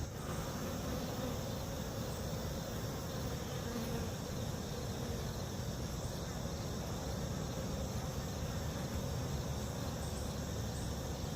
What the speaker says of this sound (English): They seem to go right for my ears, so the buzzing is really loud.